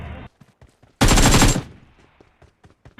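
Automatic gunfire in the BGMI mobile battle royale game: one dense, loud burst of rapid shots lasting about half a second, with sparse clicks and quieter game sounds before and after.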